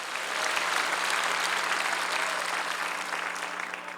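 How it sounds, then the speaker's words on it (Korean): A large outdoor crowd at a peace and reunification prayer rally in Seoul's War Memorial plaza applauds in unison, a dense, sustained roar of clapping that slowly tapers, with a steady low hum beneath. "박수로 하나님께 영광 돌립니다"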